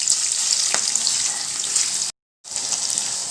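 Ginger paste and chopped large onions hitting hot oil for a tempering of seeds, a loud, bright hiss and crackle close by, cut by a short silent gap before the sizzle resumes.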